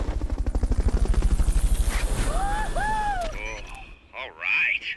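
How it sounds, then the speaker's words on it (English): The Fulton recovery helicopter in Metal Gear Solid Peace Walker beats with a fast, loud rotor chop that fades after a few seconds, followed by whooshing game effects and brief voices. "Fulton recovery helicopter is complete"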